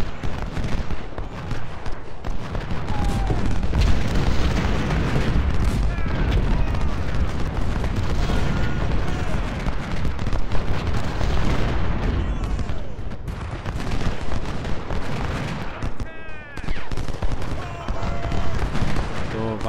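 Cannon fire in the Civil War strategy game Ultimate General: Civil War, with a continuous rumble of booming artillery and scattered gunshots running throughout and a voice talking over the battle.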